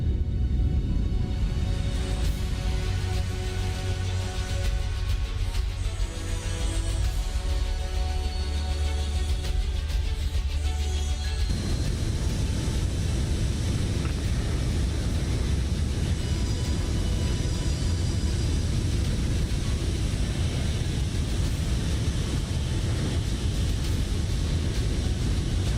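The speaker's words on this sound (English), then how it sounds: "There goes our first flyby view of the day." Aircraft flyby in Microsoft Flight Simulator, a continuous loud engine roar and rushing air that shifts in tone partway through as the plane passes, with no talking.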